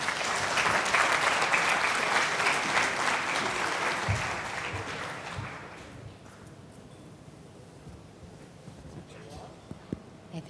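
Audience applause fills a conference hall at a women's entrepreneurship event as a speaker is welcomed to the stage, loud and dense for about five seconds before fading into scattered claps and room noise.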